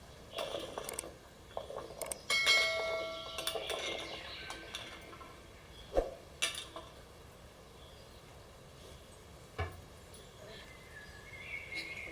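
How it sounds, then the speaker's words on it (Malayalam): Star fruit stirred into boiling water in a pot for pickle, a spoon clinking and scraping against metal in irregular bursts, close and moderately loud, with faint birdsong in the background. "നന്നായി ഇളക്കി യോജിപ്പിച്ചെടുക്കാം"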